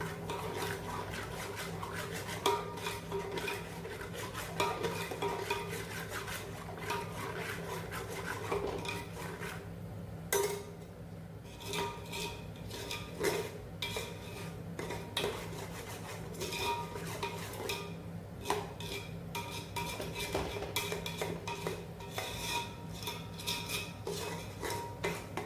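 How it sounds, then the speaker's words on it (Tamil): Thick curd for chicken biryani being stirred and sautéed in a pan, heard as a steady run of close scraping and rasping utensil strokes against the metal pan under a constant low background hum, with no talking. "ஸோ கெட்டியான தயிர் அது, அதையும் போட்டு நல்லா வதக்குங்க."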